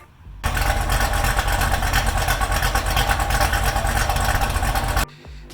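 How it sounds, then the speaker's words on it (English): A car engine fitted with Texas Speed cylinder heads and a bigger camshaft idles loudly and close by, with a steady, lumpy rumble that starts abruptly and cuts off after about five seconds. "I'm going to include a little idle video right here"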